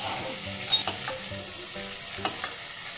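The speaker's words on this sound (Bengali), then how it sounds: "দিয়ে এটাও ভালো করে ভেজে নিতে হবে।" Tomato pieces fry in a pan for a Bengali snake gourd curry, giving a steady close sizzle broken by a few soft scrapes and taps of stirring.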